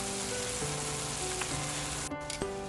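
Galbi beef ribs sizzle loudly in a hot pan, a dense continuous crackle with a steady tonal hum underneath and brief clinks near the end.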